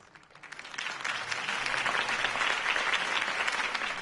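A crowd applauds after a campaign speech in the Telltale Batman game, the clapping swelling over the first second into a dense, steady ovation with no voices on top.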